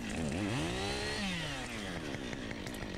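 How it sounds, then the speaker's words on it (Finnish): A Husqvarna 550 chainsaw cuts through tree branches close by, its engine loud and continuous, rising in pitch under load before settling back into a steady, buzzing whine. "Siinä on 50 kuutioinen, eli tuo 550 husku."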